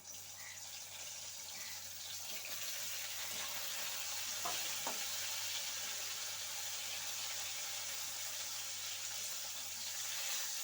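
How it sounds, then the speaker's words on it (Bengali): Fish frying in hot oil in a wok, a steady close sizzle and hiss running throughout without pause, with no talking. "কড়াই তেল গরম হয়ে গেছে মাছগুলো আমি আর একটু করে ভেজে নিচ্ছি"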